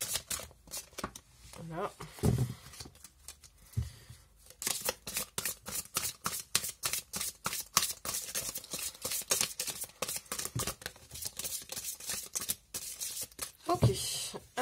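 Tarot cards are shuffled close up in rapid riffling bursts, crisp papery flutters and slaps that run on for several seconds, with someone speaking briefly now and then.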